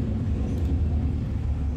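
A loud car passing by outside, heard as a muffled low rumble that stays heavy and steady for the brief moment, with no talking over it.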